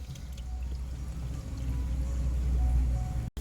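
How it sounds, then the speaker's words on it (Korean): Water sprayed over a BMW F10 5 Series car during a leak test drums steadily on the body like heavy rain, a continuous close rushing pour that cuts out abruptly near the end. "5분째 물 뿌리고 있고요."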